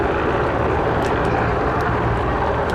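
Czech Mil Mi-171 Hip and Mi-24 Hind helicopters at the RIAT 2022 air display produce a loud, steady broadband engine and rotor roar, continuous and fairly close, with no voices.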